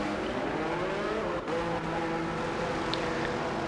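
An F1 car in the video game F1 25 pulls out of the pits at the Chinese Grand Prix, its engine giving a steady, close, high-pitched drone that holds constant for a few seconds.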